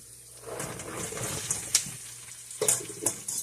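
Pork tossed into a hot pan for Chinese braised pork, a close hissing fry with scraping stirs and a few sharp clatters of meat and utensil against the pan.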